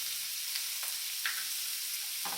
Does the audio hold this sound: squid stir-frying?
yes